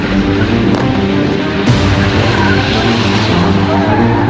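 Engine roar and tire noise from vehicles moving fast in a police anti-terror training chase, with a sharp skid burst midway, all loud and continuous with no talking.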